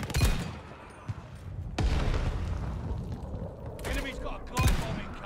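Sniper rifle shots in Call of Duty: Vanguard boom out as a handful of heavy, loud cracks spaced a second or two apart, trailing into low rumble and game ambience.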